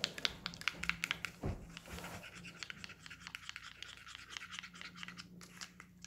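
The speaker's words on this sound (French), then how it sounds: "Je mélange tous les ingrédients." A spoon stirs liquid honey and other ingredients into a smooth paste for a skin-lightening treatment. It makes soft, repeated scraping and tapping strokes, close and fairly quiet, with no talking.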